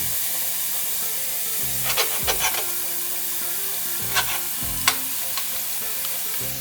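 Buffalo mince chilli sizzles and simmers in a pan with a steady frying hiss, broken by a few sharp clinks and scrapes of stirring, close and without talk.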